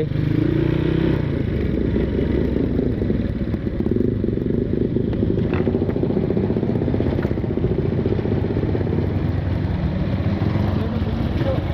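A Honda Tiger motorcycle with a stock engine runs steadily close by, a continuous low throbbing engine note with faint clatter throughout and no talking.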